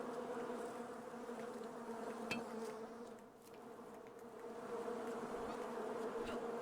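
A dense swarm of bees buzzes continuously at a beehive in the game Island Beekeeper, the hum dipping briefly in the middle before swelling back up. A game sound effect with no talking.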